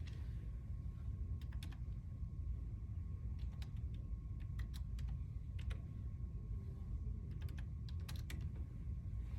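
Keys on a computer keyboard are tapped in short bursts while a card number and PIN are entered to log in at a law library computer. The sparse, faint clicks sit over a low background rumble.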